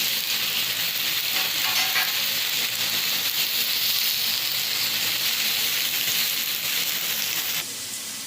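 Spices and green chillies roasting in a hot pan for a Marathi chicken rassa, a loud continuous sizzle and hiss with faint stirring, close and steady, ending with a slight drop.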